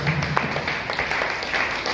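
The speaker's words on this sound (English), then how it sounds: "Give her a round of applause" Audience applause after a talk on safeguarding and child protection at a school, a steady wash of clapping with a faint voice murmuring beneath.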